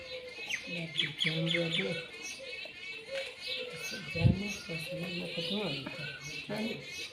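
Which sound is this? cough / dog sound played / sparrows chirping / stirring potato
sparrows chirping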